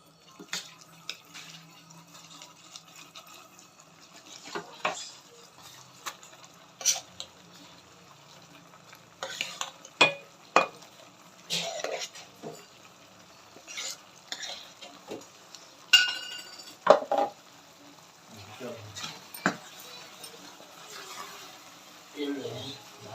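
Cooked rice being stirred into jaggery syrup in a pot for temple-style pongal, with irregular scraping and clinking of a spoon against the pot and soft wet stirring, moderately quiet.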